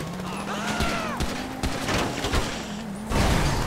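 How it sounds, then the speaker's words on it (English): Flare gun fire in Grand Theft Auto Online: gunfire and muffled blasts crackle over a low engine drone, with a whistling, sweeping tone early on and a louder bang near the end. "that's a flare gun"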